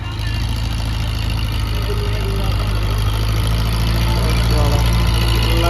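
A tractor engine revs hard while pulling through soil being hauled to fill a school ground, a loud, steady, heavy drone close by with people talking over it.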